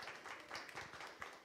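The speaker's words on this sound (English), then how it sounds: "can we give her a round of applause for all that she has done over the past few years?" An audience applauds at a small community gathering, a faint, steady patter of many clapping hands that continues evenly for a moment and carries no speech over it.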